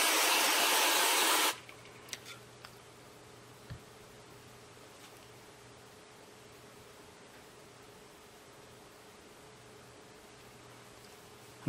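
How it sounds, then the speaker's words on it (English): Short loud hiss of cooling spray rated to about minus 50 Celsius, sprayed onto erasable pen ink, lasting about a second and a half, then quiet room tone with faint taps. "So I got some of this cooling spray. This goes down to about minus 50 Celsius."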